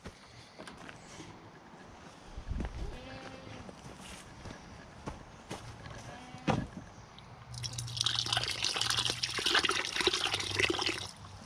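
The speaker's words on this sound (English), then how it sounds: "I might give it a little bit more water." Water splashes and trickles close by into fermenting chicken feed, with a few soft knocks and handling noises, then a steady louder pour near the end.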